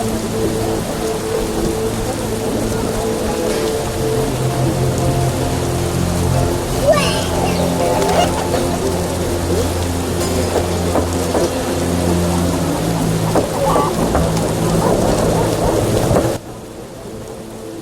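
Heavy downpour with rolling thunder in the Temple Quarter of The Witcher, a steady roar of rain under low rumbles and a few sharp cracks, with faint background tones, cutting off near the end.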